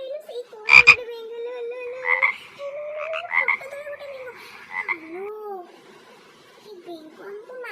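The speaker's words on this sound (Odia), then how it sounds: "ସେଇ କୋଣ ଗୋଟେ ବେଙ୍ଗ" A frog croaking inside a house: one loud, close croak burst early on, followed by further croaky calls mixed with voices.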